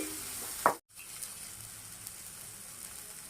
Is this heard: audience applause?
no